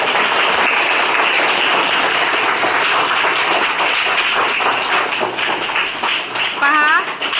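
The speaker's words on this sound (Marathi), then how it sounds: "जरा टाळ्या वाजवा सगळ्यांनी" A village audience claps loudly and continuously for a woman sarpanch during an interview event, with voices heard through the applause and a brief spoken phrase near the end.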